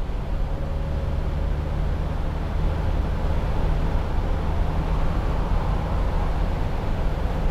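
Wind roar and road noise from a 2008 Mercedes-Benz SLK200 Kompressor being driven with the roof folded down, a steady loud rushing wash with a low engine drone underneath and no letup throughout.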